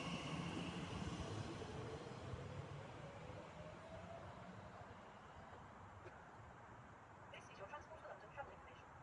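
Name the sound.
train passing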